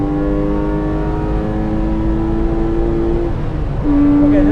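A lightweight Porsche 997 Carrera 2S engine drones loudly at steady revs on a track lap, its tone holding, then dipping briefly before climbing to a higher, stronger pitch near the end.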